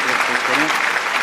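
Applause from a mushaira audience for an Urdu poet at the Sham-e-Deccan gathering, a dense steady wash of clapping lasting barely over a second, with voices mixed underneath.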